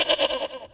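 An anime goat gives a short, clear bleat, a single wavering cry that rises and fades over under a second with no voices over it.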